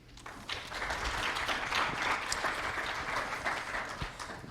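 An audience applauds steadily after a speaker is introduced at a pharmacy technician continuing-education talk, a dense wash of clapping that swells early and holds at an even level throughout.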